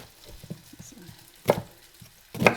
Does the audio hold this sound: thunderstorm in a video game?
no